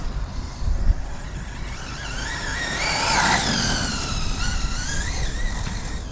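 An off-road RC car with a 6s setup and a faulty motor that cogs and cuts out at half throttle, giving a loud, rising and wavering whine with rough, uneven surges.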